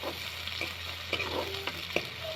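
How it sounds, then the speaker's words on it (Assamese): Onions for a fried fish curry fry softly in oil while being stirred, with a faint steady sizzle and occasional light scraping taps from the spoon, close but quiet. "পিঁয়াজখিনি ৰঙচুৱা কালাৰ এটা নোহোৱালৈকে আপোনালোকে এনেকৈ লৰাই থাকিব"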